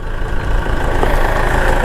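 A Case JX90 tractor's Iveco 3.2-litre four-cylinder engine runs at a steady idle, a close, loud, even diesel rumble with no talk over it.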